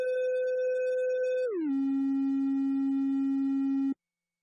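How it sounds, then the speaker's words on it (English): A synthesizer in SynthEdit plays a steady pure electronic tone that glides downward in pitch partway through and holds at the lower note before cutting off abruptly, loud and constant with no voices over it. "If I press play and I change the waveform to triangle,"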